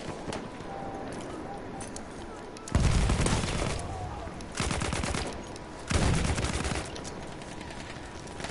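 Bursts of gunfire in Battlefield 1 on PS4, a few loud volleys of rapid shots separated by quieter stretches of background game noise, with no talk.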